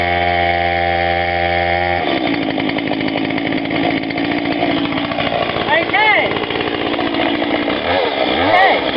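A chainsaw engine runs loud and close, its tone shifting from a steady idle to a harsher buzz, with a brief spoken word mixed in.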